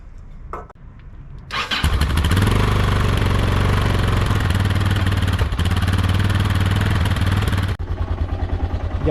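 An old motorcycle engine cranks briefly, catches and roars into a loud, steady idle up close, then settles into a lower, pulsing idle near the end.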